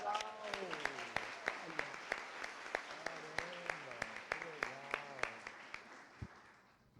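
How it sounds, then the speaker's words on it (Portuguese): Sharp, evenly spaced claps sound at a moderate distance while someone talks over them, at a tenth-anniversary gathering of the Família Gauss organisation honouring Luiz Gustavo. "Uma salva de palmas para o Luiz Gustavo, chegou agora"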